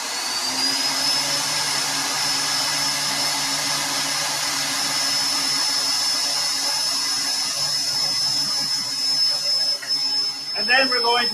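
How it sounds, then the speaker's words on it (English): Kitchen blender running steadily while xanthan gum is mixed in, a loud sustained whirring motor with a high whine that holds for several seconds, with a brief rattle near the end. "we're going to turn on the blender and we're going to sprinkle in the xanthan as the blender rolls"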